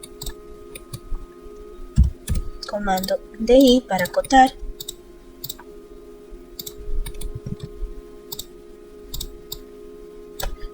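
A computer mouse clicks in Revit while a parametric kitchen cabinet is being modeled. Several light, sharp clicks are scattered through the clip under a voice speaking Spanish.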